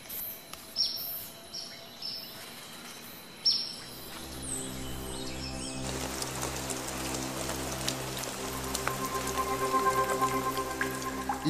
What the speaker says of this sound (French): Les averses sont une autre occasion d'entretenir ce magnifique plumage.